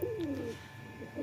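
A pigeon gives a short, soft, rolling coo, then starts another, close and clear against quiet background hum.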